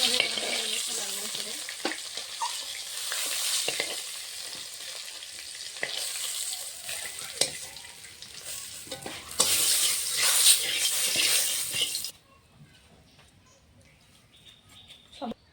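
Fish pieces fry in hot oil in a pan, a steady crackling sizzle with occasional stirring clatter for about twelve seconds before the sound drops away to near quiet.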